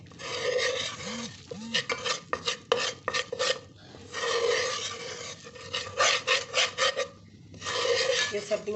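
Gram flour (besan) roasting slowly in a pan for a Punjabi besan sudka, with a spoon scraping and stirring in repeated bursts of rasping strokes separated by short pauses, close and fairly loud.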